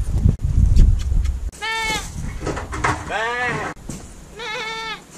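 Sheep bleat loudly and close by on a tree-pruning work site, several wavering cries in a row after a stretch of rumbling noise.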